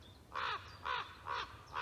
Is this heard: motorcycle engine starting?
no